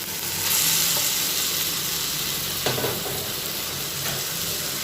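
Mashed roasted eggplant goes into a spice mix frying in a pan for begun bharta, a Bengali dish. The pan gives a steady, close sizzle throughout with a soft stirring scrape near the middle, and no voices.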